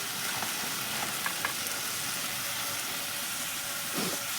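Fish and potatoes fry in a pan with a steady, close hiss of sizzling oil that holds evenly throughout, with faint crackles and no talking.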